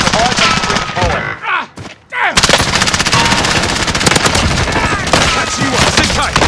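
Gunfire in the Call of Duty Warzone video game, a loud sustained machine-gun burst with rapid shots, a brief lull, then more heavy firing and a voice talking over it.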